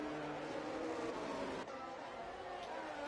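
Four race cars in a sim racing game climb toward turn 7 of the Singapore street circuit, their engines blending into a steady, loud, high-pitched drone with a layered harmonic whine that holds for the whole stretch.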